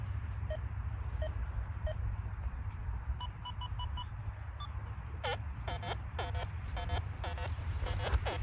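A Deus 2 metal detector on software 1.10 gives its iron tone over a nail: a series of short, clipped electronic beeps and warbling tones over a steady low hum.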